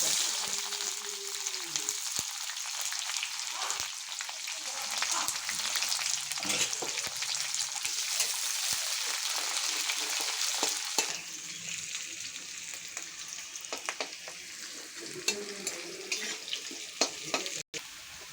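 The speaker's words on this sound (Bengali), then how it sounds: "পেঁয়াজটা ভাজা হয়ে গেছে" Onions frying in oil in a wok for a paneer and pea curry, a steady broad sizzle with stirring scrapes and clinks; the crackle thins partway through, and one sharp clank comes near the end.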